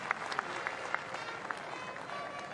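A cricket crowd at a Test match in New Zealand applauding steadily, a broad distant wash of clapping with a few sharper claps standing out, no voices over it.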